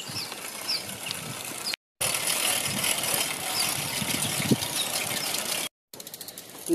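A pedal-powered bicycle machine, its wheel a bicycle wheel filled with cement, runs to grind maize with a continuous close rattling, grinding whir, broken by two short pauses.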